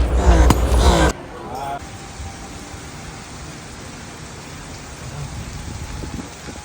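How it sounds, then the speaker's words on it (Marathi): Heavy rain pours at Legoland Malaysia with a steady, even hiss that fills the scene at moderate loudness. A voice speaks briefly at the start, then the rain continues alone. "पाऊस काही थांबायची आता शक्यता नाही"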